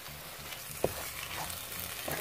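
Flour cooking with mushrooms in a pot for creamy mushroom soup, with a soft, steady sizzle and occasional stirring scrapes and one small knock, quiet and close.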